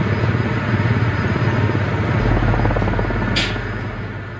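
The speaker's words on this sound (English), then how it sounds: "The British Army in Middle Wallop began Apache AH-64E helicopter attack training" Apache AH-64E attack helicopter flying at the British Army base at Middle Wallop, a rapid, steady rotor thump under a loud engine roar.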